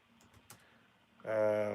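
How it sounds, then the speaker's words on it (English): Fast typing on a computer keyboard while entering a web search, a quick burst of clicking keys that swells into steady loud tapping toward the end. "I'm typing this into Google right now."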